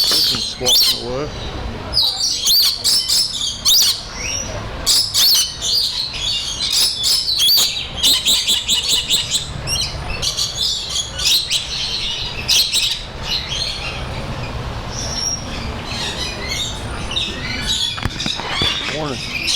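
Captive birds in an indoor forest biome at a zoo squawk and chirp repeatedly with sharp, loud calls, joined by a dense chorus of other birds throughout, while people talk nearby.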